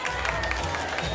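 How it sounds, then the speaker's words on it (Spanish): Crowd applause and cheering along a street parade route, with dense clapping sustained throughout the short moment and some voices mixed into the noise. "Venga, fuerte el aplauso."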